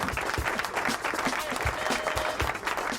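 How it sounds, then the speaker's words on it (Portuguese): Steady applause from a small group at a podcast recording, dense and continuous for about three seconds, with no voices over it. "Senhoras e senhores, aplausos meu jovem"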